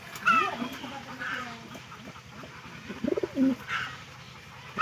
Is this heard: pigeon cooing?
yes